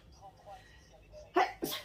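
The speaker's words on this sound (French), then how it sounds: "Je crois que je vais éternuer." A single sharp sneeze bursts out near the end, after a quiet stretch with faint background sounds.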